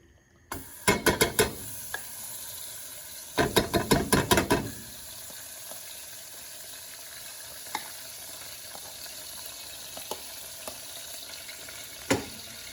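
Margarine poured into a pan to melt for caramel popcorn sizzles steadily, broken by two quick clusters of sharp clattering clicks and a few isolated ticks.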